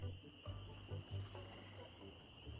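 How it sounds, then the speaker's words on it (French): Frogs croak in repeated low, throaty pulses in the Monkey Island 2: LeChuck's Revenge swamp, over a steady high insect-like drone and faint background. "Là, il y a les grenouilles."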